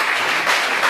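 Brief burst of steady applause from guests at an intercultural party, welcoming someone, close and even for about a second.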